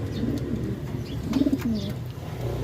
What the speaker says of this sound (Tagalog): Yung kalapati ni Cap, rumuronda na rin yan.